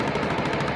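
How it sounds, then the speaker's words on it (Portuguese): A short, loud machine gun burst from a shootout near a train station in Rio de Janeiro's west side, heard as rapid dense gunfire lasting under a second. "Aqui tá dando pra ver a rajada."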